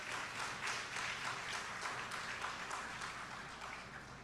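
Audience applause at the opening ceremony of the 54th Annual General Assembly of the Caribbean Broadcasting Union, a steady, dense wash of many hands clapping at a distance, fairly faint and sustained throughout.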